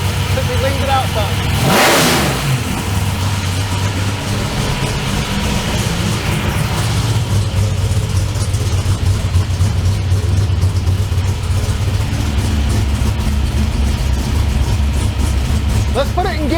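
Car engine fitted with a 4150 E85 carburetor revs sharply once, then settles into a steady loud idle while being tuned leaner; someone talks over it.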